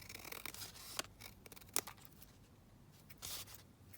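Scissors trimming paper in a papercraft folio project: a few quiet close snips and rustles, with sharp cuts near one and almost two seconds and soft paper handling between.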